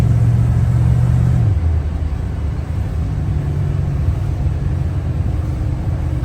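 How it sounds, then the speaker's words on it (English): Constant low road rumble and drone from a Dodge truck driving along, with a faint whirring hum under it that fits a worn front wheel bearing; loud and steady, no speech. "I'm still hearing bearing noise."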